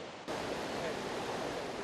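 Galovac waterfall in Croatia's lakes and forest sends out a steady rushing wash of falling water, which starts abruptly and then holds a constant, moderately loud roar with no voices.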